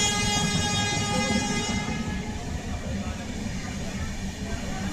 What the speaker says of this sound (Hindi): प्रयागराज जंक्शन वाली हम सफ़र है।